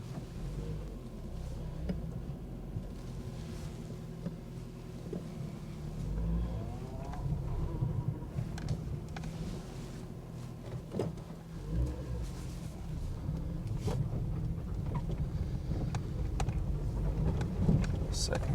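A 2002 Nissan Micra pulling away in first gear, a steady low engine drone with a slight rise in revs, close and continuous with some clunks and rattles throughout.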